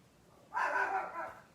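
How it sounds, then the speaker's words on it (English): A pet dog lets out a single short, fairly close bark, set off by someone passing outside, then trails into a brief whine in an otherwise quiet room. "that's my baby dog. She must see somebody walking their dog outside"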